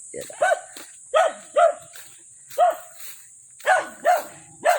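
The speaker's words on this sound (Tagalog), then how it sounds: "Matapang kang aso ka ha?" A dog lets out a series of close, sharp barks and yips in uneven bursts, with pauses between them and a steady high-pitched whine running underneath.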